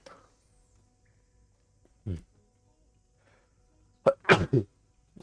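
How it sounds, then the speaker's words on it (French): A single close, sharp sneeze with a quick intake before it, preceded by a brief vocal sound amid near silence. "Éternuement."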